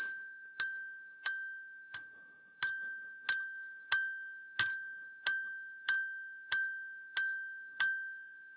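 A bell rings in a steady, evenly spaced series of about twelve bright, clear dings, each sharp strike ringing briefly before fading, with no voices.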